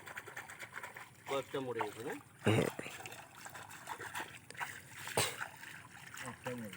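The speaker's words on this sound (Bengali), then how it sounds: "ওভাবে না জল ওইদিকে ঢেউ দিয়ে দাও" Water splashes a couple of times as waves are pushed across a Sundarbans fish pond, sloshing loudly amid people talking nearby, with a soft trickle between.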